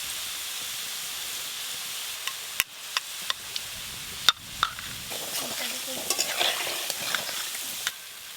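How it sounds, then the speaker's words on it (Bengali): Drops of boondi batter sizzle and hiss as they fry in hot oil, a steady crackling fry broken by sharp clinks of a ladle against the pan. "বুন্দিয়া ভাজা হয়ে গেল,"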